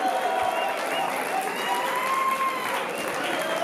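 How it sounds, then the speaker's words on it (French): A crowd at a didgeridoo battle final claps and cheers, a continuous roar of applause with whistling tones drifting over it, steady and moderately loud with voices mixed in. "Applaudissez-les là!"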